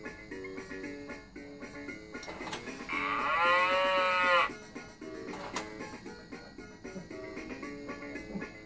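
A Fisher-Price Laugh and Learn crib toy cow moos once in a long, wavering electronic tone, set against a tinkly music-box style melody that plays before and after.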